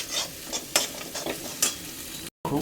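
Egg and potato frying in a pan, with a steady sizzle broken by a few sharp scraping stirs and a brief dropout near the end; no one speaks.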